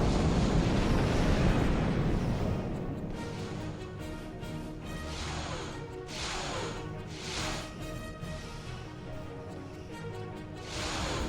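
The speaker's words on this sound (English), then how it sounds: "Ship explosions cause damage." Starships explode in a Star Trek Online space battle: a sustained, loud roar of blasts and rumbling debris, with several swelling bursts rising and fading over the constant low drone.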